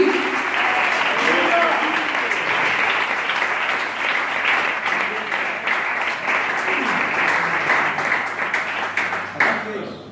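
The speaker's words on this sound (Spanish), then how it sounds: "da un fuerte aplauso al que vive, al que reina, al que hoy está aquí" A church congregation gives loud, sustained applause during a sermon, a thick roar of clapping lasting several seconds with voices and shouts mixed in beneath it.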